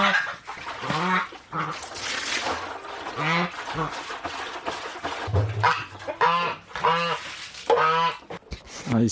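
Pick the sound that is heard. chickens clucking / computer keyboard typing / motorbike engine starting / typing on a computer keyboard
chickens clucking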